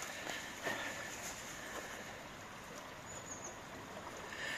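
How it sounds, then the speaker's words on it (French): A small river near a home in the countryside flows calmly, a steady soft wash of running water with a faint trickle close by, continuous and even throughout with no voices. "Là elle coule paisiblement"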